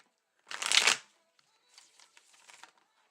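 A deck of tarot-style reading cards is shuffled in one loud, close riffle lasting about half a second, followed by a softer, quieter spell of cards being squared and shuffled.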